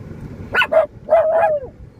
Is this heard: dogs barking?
yes